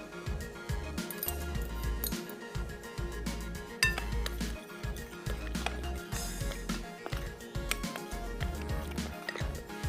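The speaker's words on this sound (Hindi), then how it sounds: "और इसको आपने करना है अच्छे से मिक्स।" Fish pieces are mixed by hand with a flour marinade in a bowl for fried fish mandi, giving steady close clinks and scrapes against the bowl with soft wet handling throughout.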